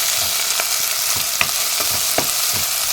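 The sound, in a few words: meat frying in olive oil with onion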